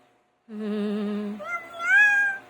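A single cat meows: one drawn-out call, clear and close, rising in pitch toward the end, heard alone against a quiet background.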